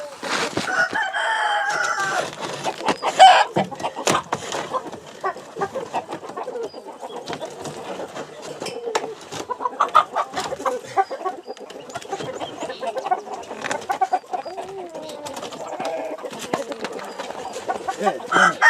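A busy flock of chickens clucks and squawks close by, with a rooster crowing amid the commotion and people talking at times.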